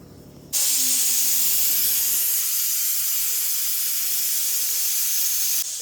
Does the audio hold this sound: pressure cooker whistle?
yes